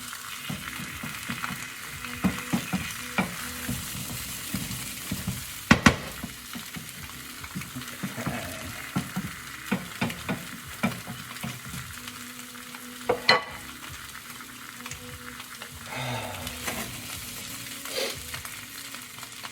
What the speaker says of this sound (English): I'm just gonna let the peppers that I just tossed in there heat up a little bit.